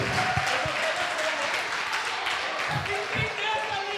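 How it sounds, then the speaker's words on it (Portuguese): Audience applause for the Lord and the missionary at a church leadership school class, steady, full clapping from a roomful of people lasting the whole four seconds, with murmured voices mixed in. "Aplauda o Senhor e a missionária."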